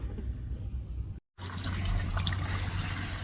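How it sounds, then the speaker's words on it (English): Coolant runs steadily from the driver's side bottom radiator drain on a 5.3L LC9 truck engine, a close, continuous trickle and splash that cuts out for a moment, then resumes fuller and louder. "So we're going to loosen that up and drain the coolant."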